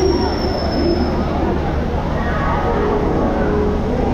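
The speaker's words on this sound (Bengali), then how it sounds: "আমাদের ট্রেন এসে গেছে সবে।" A train pulls into a station with a steady loud rumble of rolling wagons, a high wheel squeal at the start and faint crowd murmur around it.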